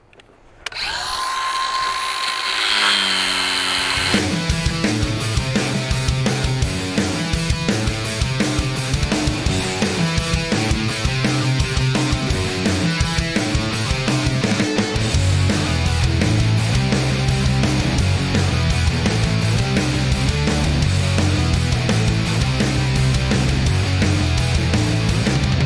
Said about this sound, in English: we're just going to shortcut that with a grinder. So yeah, we're just going to cut it off.